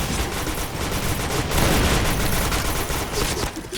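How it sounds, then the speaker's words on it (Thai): Dense, sustained gunfire fills a PUBG deathmatch, with rapid overlapping shots and bursts rolling on continuously at steady, fairly loud level with no clear pauses. "เขายิงกันตรงไหนหมดเนี่ย"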